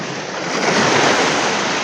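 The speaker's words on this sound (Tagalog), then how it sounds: "Malakas kasi ang alon." Strong waves wash against the shore at Talim Island in Binangonan, Rizal, making a steady, broad surf roar with wind noise on the microphone.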